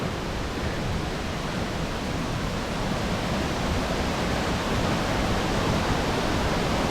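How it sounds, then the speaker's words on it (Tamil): Saatsada waterfall in Maharashtra roars in a steady, dense broadband rush of falling water, loud and continuous with no voices. "இந்த வாட்டர் ஃபால் பார்த்தீங்கன்னா ரொம்பவே டிஃப்ரெண்ட்டாக இருக்குது"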